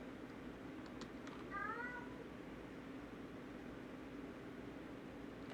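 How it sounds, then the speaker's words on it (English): Cat meowing, a couple of short faint mews in the middle of a quiet room with a steady low background hum, no talk over it. "Cat, I hear you."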